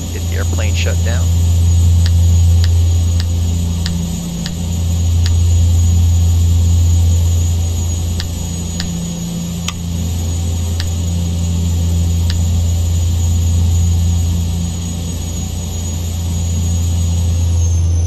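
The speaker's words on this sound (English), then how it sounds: "Get the airplane shut down." Turboprop engines of a King Air C90B stand on the ramp after landing at Weed, holding a loud steady whine and drone that wavers slightly without clearly winding down, with faint ticks above it.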